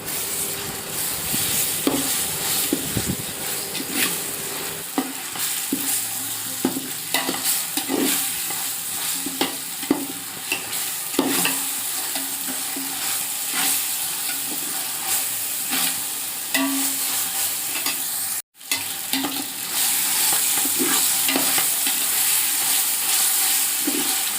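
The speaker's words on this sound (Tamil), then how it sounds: "வதக்கின வெங்காயத்தில் சேர்த்து நல்லா வதக்கணும்." Garlic paste being sautéed with fried onions for chicken biryani, a steady bright sizzle and hiss with regular scraping stirs, close and continuous, with a brief dropout near the end.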